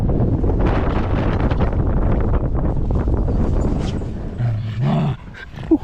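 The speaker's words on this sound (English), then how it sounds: "It's windy. Very windy up here." Strong wind blowing across a hilltop near Edinburgh during a dog walk, a loud rumbling roar buffeting the microphone for several seconds before easing, with a brief muffled sound at the end.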